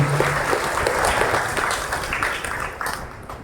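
A church congregation at Pentecost Sunday Mass claps together in sustained, dense applause that fades slightly toward the end.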